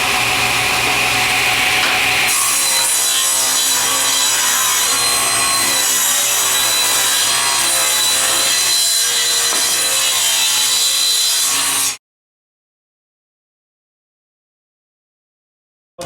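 A table saw rips a wood board lengthwise against the rip fence for table-base stiles and rails, a loud, continuous whirring cut that runs about twelve seconds and then stops dead into silence.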